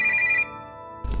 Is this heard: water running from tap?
no